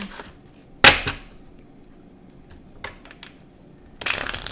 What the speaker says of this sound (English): let's get a quick shuffle in